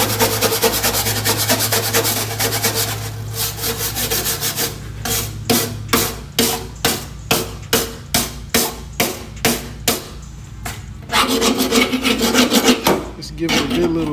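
Scrubbing rust off metal, first as continuous rough rubbing, then as a run of rhythmic back-and-forth strokes about twice a second, then steady scrubbing again. Loud and close, with no talking.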